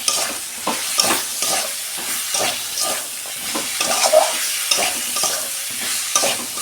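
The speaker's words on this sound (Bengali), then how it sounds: "ভালো করে আমি কষতে নেব।" Cauliflower and flat beans being stir-fried in a pan give off a steady, close sizzle, broken by repeated stirring scrapes and clatter through the whole stretch.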